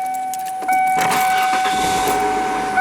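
A 1992 Ford Tempo GL engine cranks and catches, settling into a steady idle hum, with a faint electronic chime tone running throughout.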